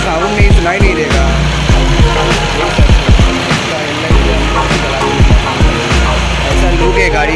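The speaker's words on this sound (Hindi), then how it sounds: "बहुत पावरफुल इंजन है इसका" A Benelli 899cc naked superbike with a starting problem runs with a steady, throbbing mechanical drone, punctuated by repeated sharp clicks and knocks, loud and close throughout.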